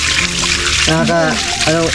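Hot spring water at Balogo, Pasacao trickles and splashes steadily as it flows down through hoses from the hillside, while someone talks over the running water.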